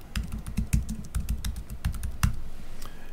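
Someone types a name on a computer keyboard, a quick irregular run of close, crisp key clicks with a couple of short pauses.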